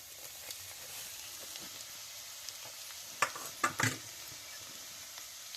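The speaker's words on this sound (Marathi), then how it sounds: "आता खोबरं लसूण भाजायचं." Grated coconut and garlic sizzle steadily in hot oil with cumin, a soft continuous frying hiss, broken near the middle by a few sharp clinks of a spoon stirring the pan.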